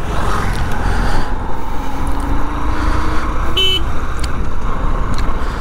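Road traffic drone around a new Honda SP 125 BS6 motorcycle as it sets off on a first test ride, with a steady engine and traffic wash and a brief high chirp partway through.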